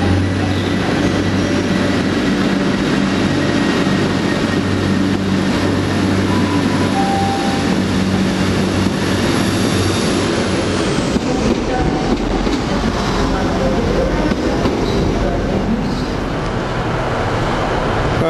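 A passenger train pulls away on a service bound for Haverfordwest in South Wales, its broad engine rumble and rolling wheel noise sustained and fairly close throughout, with a high whine fading out partway.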